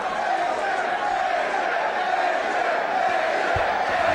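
Wrestling arena crowd with AJ Styles fans, a dense sustained roar of cheering and shouting that holds steady and loud throughout, with no break.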